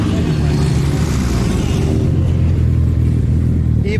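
A turbocharged 1.6-liter first-generation Mazda Miata engine drones loudly and continuously at a racing event, a dense close engine roar that fills the whole stretch without a break.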